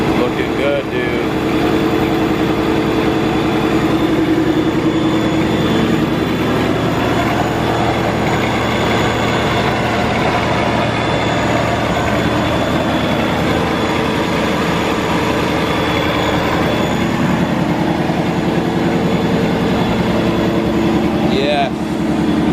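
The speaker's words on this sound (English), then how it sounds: "Bag, boosted, wide body, Procharger Mustang." A bagged, wide-body Ford Mustang fitted with a Procharger supercharger kit runs close by, giving a loud, steady, rough engine rumble that holds for the whole stretch with low voices faintly underneath.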